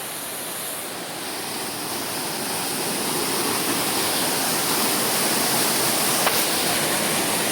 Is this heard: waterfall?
yes